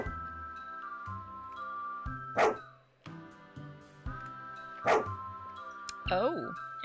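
Game-style dog barks from a dog character in the game Dialtown, two short bursts followed by a yippy third, set over steady synthetic music tones.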